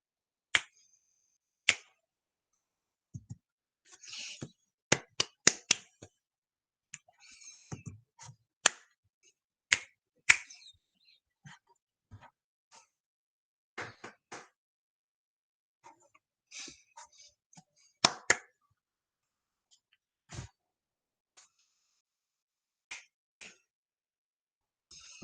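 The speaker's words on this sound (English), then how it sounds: "This time I'm going to give you body percussion patterns." Sharp, isolated claps and finger snaps in short rhythmic patterns with pauses between, forming body percussion sequences in a quiet room, near and crisp with no talking.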